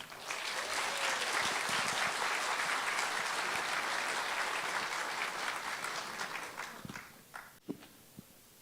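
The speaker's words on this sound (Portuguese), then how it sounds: "chamamos com uma salva de palmas" Audience applause at a national spiritist congress lecture in Belo Horizonte welcomes a speaker, with dense, sustained clapping from a large hall that fades out toward the end, followed by a few isolated thumps and footsteps.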